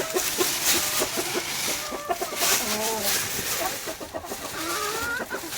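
Gamefowl, a rooster and two hens, cluck and call busily while being fed in their pen, with repeated overlapping clucks close by.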